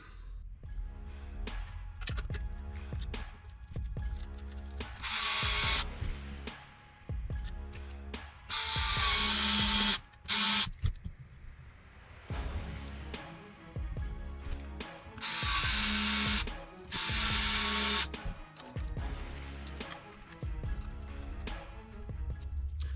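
Small screws being driven with a ratcheting driver into the rear body mount of a TC-V1 RC car chassis, 10mm screws, producing bursts of close, crisp mechanical clicking separated by brief pauses.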